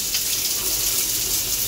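Hot water runs steadily from a tap at a provincial park campground, a close, continuous hiss with no pauses and no talk.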